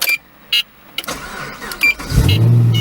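A Chevrolet Camaro engine cranks and catches after a run of clicks and brief electrical whirs, settling into a loud, steady low idle close by.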